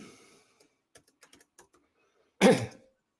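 Light computer keyboard typing: a handful of soft, scattered key clicks over a couple of seconds, close and quiet, followed by a brief louder clunk.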